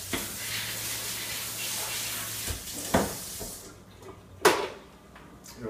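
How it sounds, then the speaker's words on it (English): Running water rinsing home-brewing equipment during an all-grain IPA brew, a steady close splash and hiss broken by a few clanks and knocks as the gear is handled, with the flow tapering near the end. "So I'm going to rinse this off."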